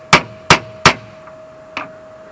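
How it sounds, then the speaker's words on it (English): A hammer strikes a rivet laid on steel while a sickle mower is repaired, giving three sharp, ringing metallic blows in quick succession, then a pause and a fourth lighter hit, close and alone. "laying that on that steel with the rivet on the hole and hitting it pretty good"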